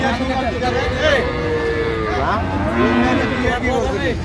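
Several cattle, dairy cows and calves, moo loudly and repeatedly, long drawn-out calls overlapping amid crowd chatter and people talking nearby at Aftabganj livestock market, Dinajpur.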